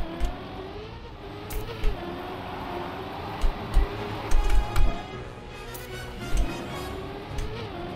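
Race car engine from the Trackmania video game, a randomly generated track, a steady hum with several short ticking bursts and rev spikes, moderately quiet with no talking.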